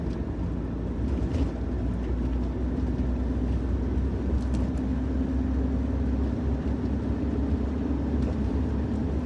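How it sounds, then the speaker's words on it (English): A car accelerates hard in fifth gear from 40 mph, making a steady, loud engine drone mixed with road and wind rumble throughout, with no talk. "So 40 miles an hour, 5th gear, floor it."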